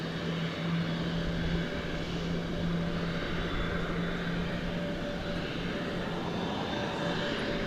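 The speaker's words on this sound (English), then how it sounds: "It's an Airbus A320neo." A Volaris Airbus A320neo departing DFW Airport for Mexico City at night, its jet engines giving a loud, steady roar with a sustained tonal whine throughout and no talk.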